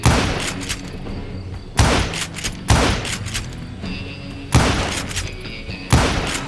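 Gunfire from the Western shooter Call of Juarez: Gunslinger: five heavy, booming shots a second or so apart, each a loud close blast with a rumbling tail, one beginning right at the start.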